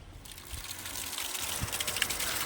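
Water trickling and splashing steadily, soft and close, with a few louder splashes.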